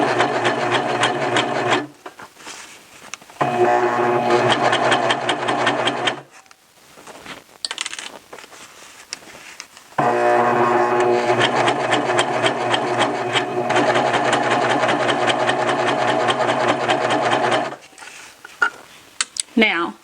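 A serger sewing the hem of a T-shirt, running in loud, close bursts with a steady mechanical whir, pausing between runs, then stopping near the end as a voice briefly speaks.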